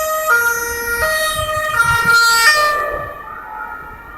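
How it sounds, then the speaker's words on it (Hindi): A loud two-tone ambulance siren wails close by, alternating pitch in steady steps before fading out, with road traffic rumbling underneath. "हाँ जी एम्बुलेंस आ रही, तो ये देखें एम्बुलेंस आ रही है"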